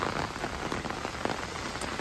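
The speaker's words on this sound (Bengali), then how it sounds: "সে রাস্তার বৃষ্টি, এই যে" Steady rain patters on a road near Jhakri Falls in Gangtok, Sikkim, a dense, even hiss of drops on the wet surface with a few slightly louder drips, continuous throughout with no voices.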